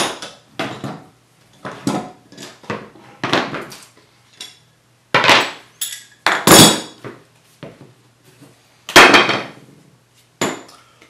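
Clamps being removed from a freshly glued wooden Hock shoulder plane kit: a series of close, sharp knocks, clacks and rattles of metal and wood, spaced irregularly with short pauses, no voices.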